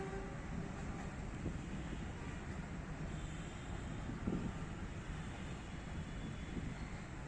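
A Pakistan Railways train passes in Rawalpindi as a steady, broad rumble that holds evenly throughout, with wind buffeting the microphone and no clear onset or fade.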